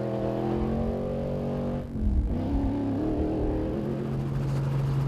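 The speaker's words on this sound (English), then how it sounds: "Richard Fuller and Jaco Forster making an appearance. Their BMW X3 is currently 10th in class" A BMW X3 rally car in a desert off-road race passes by, a steady engine hum and whir that dips briefly and then swells again as it goes by, fairly distant.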